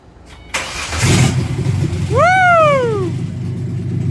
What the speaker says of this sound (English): now we're going to show actually starting the car